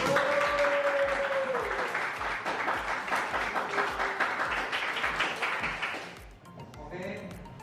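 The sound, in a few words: applause, clapping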